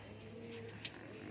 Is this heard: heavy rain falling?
no